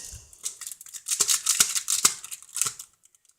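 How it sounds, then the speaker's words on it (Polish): Scissors snip through the foil wrapper of a Bravo Sport football sticker pack, giving a run of close, crisp crinkling cuts and rustles over about three seconds before going quiet. "nożyczkami sobie otworzę"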